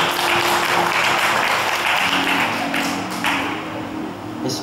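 Audience applause at a hypnosis show at the Serenity 2019 fair, a dense steady clatter of clapping that runs throughout and thins slightly toward the end, with a faint voice underneath.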